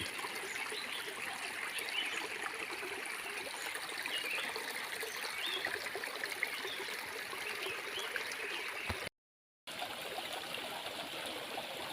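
A forest stream flows steadily nearby, a constant rushing and trickling of water with no voices, broken once by a brief moment of silence.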